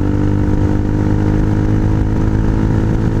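A Honda Hawk 250 motorcycle with an aftermarket exhaust accelerates gently at around 40 mph, its engine note loud, close and steady with a strong, continuous drone throughout.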